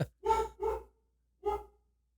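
A husky barks three times up close, two quick loud barks followed by a single bark after a short pause, with silence between and no talking.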